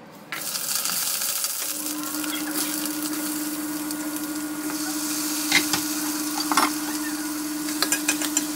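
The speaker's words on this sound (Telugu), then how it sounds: "ఇక్కడ ఒక సైడ్ ఆనియన్ టొమాటో అవన్నీ మగ్గిపోతున్నాయి" Chopped onion and tomato cook in a pan on a home stove, giving a steady close sizzle with a faint electrical hum and a few sharp clinks of utensils near the end, and no one speaks.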